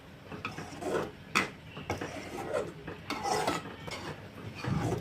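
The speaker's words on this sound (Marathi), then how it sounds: "त्याला थोडं हलवून घेऊ।" Red sev being stirred into a milk curry in a pan, with soft scraping and rubbing strokes of a spoon against the metal at an uneven pace, close and fairly quiet.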